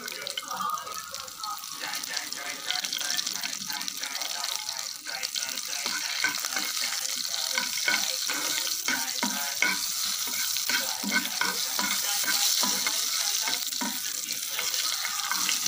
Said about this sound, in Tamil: நல்லா கடுகு பொரியுது பாருங்கள்.